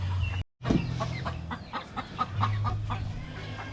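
Chickens clucking and chattering on a small backyard poultry farm, a steady flock murmur with repeated nearby clucks over a low background hum.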